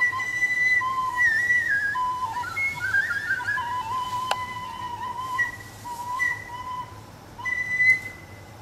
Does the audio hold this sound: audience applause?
no